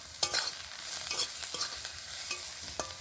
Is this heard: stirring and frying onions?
yes